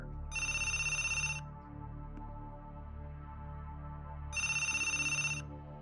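A telephone ringtone sounds in two bright electronic bursts a few seconds apart, with a low background hum between rings and no talking.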